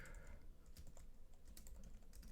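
Quiet computer keyboard typing, a loose run of soft, irregular key clicks close by, with no voices.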